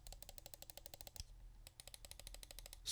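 Side buttons of a Lethal Gaming Gear LA-1 gaming mouse clicked repeatedly in a fast, even rhythm, crisp, close and quiet, with one brief pause partway through.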